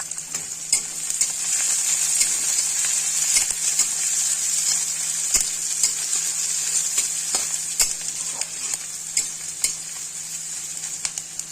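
Chopped onions fry with five-spice seeds and a bay leaf in hot oil, giving a loud, continuous hiss. Frequent short clicks of a spoon stirring the pan come through it. There is no talk.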